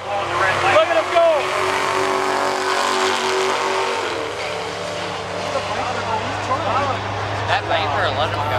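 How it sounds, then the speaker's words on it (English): A Dodge Viper of 400-odd horsepower revs and races down a quarter-mile strip at Hot August Night in Edmonton, its engine droning and climbing in pitch under excited shouting spectators. "let's see what a Dodge Viper can do in the quarter mile"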